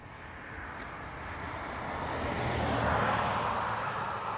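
An ATR turboprop arriving from Aberdeen at Dublin Airport makes a distant engine roar that swells gradually and peaks toward the end, with a low propeller hum and no voices.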